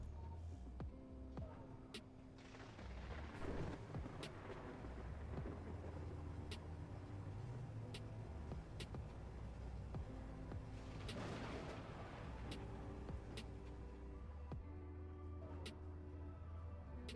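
Low, continuous rolling rumble of a distant thunderstorm in the survival game Space Engineers, faint and far off, with sparse soft clicks on top.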